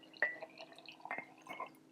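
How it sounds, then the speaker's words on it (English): Water from a one-cup measure going into a mason jar of flour, heard as a few short, soft splashes and drips, spaced apart and fairly quiet. "I'm going to take the 1 cup of water and put that in."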